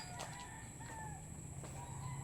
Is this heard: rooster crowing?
yes